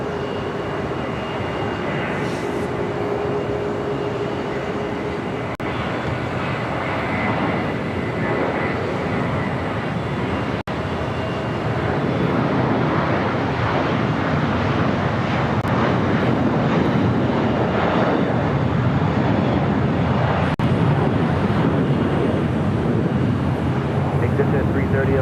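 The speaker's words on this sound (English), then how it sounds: "Qatar Airways Flight 739 coming up from Doha at A350 1000." A Qatar Airways Airbus A350-1000 arrives at LAX after a flight from Doha, its engines a continuous broad roar that grows somewhat louder partway through, with people talking over it.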